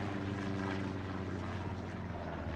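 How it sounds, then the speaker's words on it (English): A propeller airplane drones steadily overhead in the multiplayer shooter Hell Let Loose, a continuous loud engine hum with no voices. "I hear the plane, I don't see the plane."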